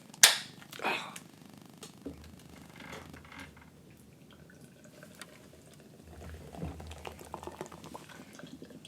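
Beer is poured into a glass with a sharp crack at the start, then a fizzing, bubbling pour that continues softly and steadily throughout.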